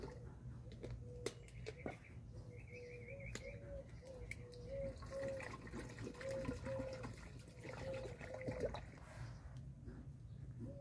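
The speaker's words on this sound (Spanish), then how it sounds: "Vamos a poner el agua." Water for homemade horchata is poured into a container, a steady filling stream with rising pitch and small clinks, at close range over a faint background hum.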